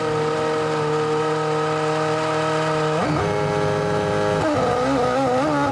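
A 2006 Formula One car at the Montreal Grand Prix accelerates out of the pit lane, its high-pitched engine rising through sharp gear changes in a steady, loud whine heard alone.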